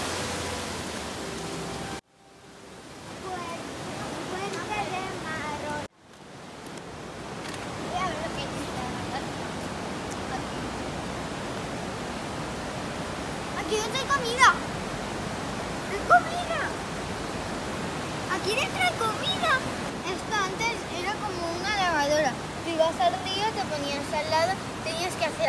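Snowmelt river rushing downhill in Rascafría, Sierra de Madrid, a steady broadband roar of water filling the scene, with a couple of brief dropouts and faint voices and small sounds over the top.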